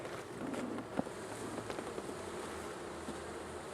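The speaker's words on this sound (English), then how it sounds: "there are a lot of bees on my inner cover." A soft, steady hum of many honeybees buzzing close by on a hive's inner cover, with a few louder individual buzzes passing over the low drone.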